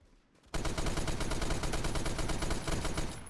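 An M60 machine gun in the video game Phantom Forces fires a loud, continuous rapid burst that starts abruptly after a short quiet moment and holds for nearly three seconds.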